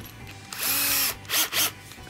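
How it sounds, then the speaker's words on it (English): A power drill fitted with a quarter inch bit bores into wood while building a simple birdhouse, one sustained whining burst followed by two shorter pulses, loud and close with no talking. "Quarter inch drill bit."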